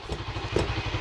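A 2009 Honda CBR125R motorcycle with its exhaust baffles removed runs steadily, its small single-cylinder engine giving a rapid, loud, close putter for a second with no talk.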